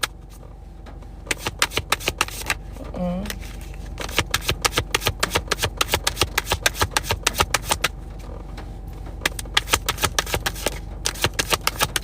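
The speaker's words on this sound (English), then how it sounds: "Having a hard time shuffling for some reason." Tarot cards being shuffled in repeated quick riffling bursts, crisp and close, with a steady background hum and no talking.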